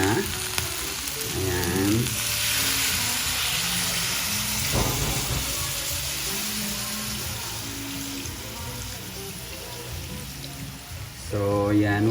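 Native chicken sizzles loudly in a pan as coconut milk is poured in, a continuous dense frying hiss with brief stirring sounds and a voice speaking over it.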